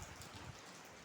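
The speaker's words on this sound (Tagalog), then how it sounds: "Ayan umambon ulit." Light drizzle falls during a night fishing outing, a faint, soft patter of fine raindrops spread evenly across the short stretch with no voices.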